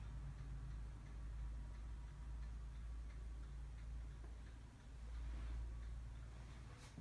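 A clock ticks steadily and faintly in a quiet room of a house decorated for Christmas, over a low, constant background hum.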